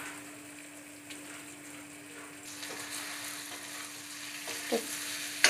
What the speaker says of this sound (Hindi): तो अच्छे से भून लेंगे इनको।